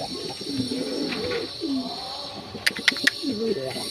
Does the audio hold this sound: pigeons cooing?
yes